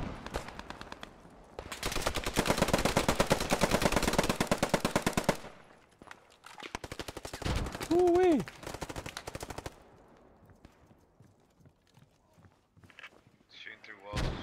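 Heavy automatic gunfire rattles in long sustained bursts from a World War II battle at Sainte-Mère-Église in the game Post Scriptum, with scattered single shots and quieter gaps between volleys. A voice cries out briefly partway through.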